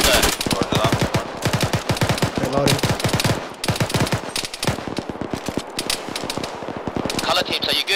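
Rapid bursts of machine gun fire from a gun nest behind a large rock, dense and loud, with repeated volleys mixed with other gunfire and battle noise throughout.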